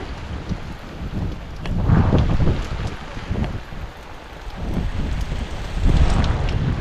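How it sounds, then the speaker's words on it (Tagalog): Rain keeps falling on a vegetable garden of bitter gourd and eggplant, a loud, steady broadband rush that swells and eases in gusty waves, with no voices. "Patuloy pa rin yung pag-ulan."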